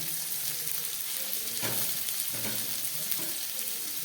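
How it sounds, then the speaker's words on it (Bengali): Chopped onion and capsicum frying in a pan for a chicken snack, a steady close sizzle throughout with a few soft stirring scrapes partway through. "দিয়ে দিচ্ছি কেটে রাখা পেঁয়াজ আর দিয়ে দিচ্ছি কেটে রাখা ক্যাপসিকাম সব দিয়ে খুব ভালো করে আমি একটু ভেজে নেব"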